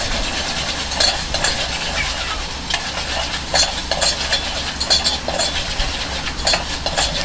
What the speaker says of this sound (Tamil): கொஞ்சம் நல்லா வதக்கிக்கலாம் கொஞ்சம் அடிப்பிடிக்காத அளவுக்கு கொஞ்சம் நல்லா கொஞ்சம் கிளறி விட்டுக்கலாம்